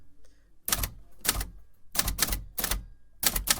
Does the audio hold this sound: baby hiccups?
no